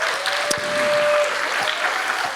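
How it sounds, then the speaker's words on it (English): An audience at the 2024 Engendered Spirit Awards claps in steady, dense applause that fills the room at an even loudness throughout, with a faint sustained tone running beneath it. "So let's give them a round of applause."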